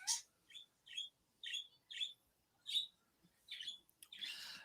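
A pet bird squawks and chirps indoors in a quiet room, a series of short sharp calls in quick succession, clear and fairly close, with no talk over it.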